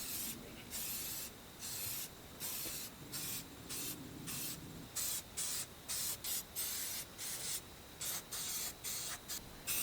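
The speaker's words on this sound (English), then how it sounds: "I'm actually just going to spray the larger areas just to have a bit of a protective coating on there" Spray paint hisses onto parts of a 100-year-old cook stove. A few longer blasts are followed by a quick run of short, evenly spaced bursts, close and clear.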